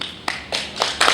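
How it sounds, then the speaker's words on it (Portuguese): An audience at a security guard training class graduation ceremony claps in a brief, sparse burst, a few distinct hand claps coming in uneven beats over about a second. "Uma salva de palmas."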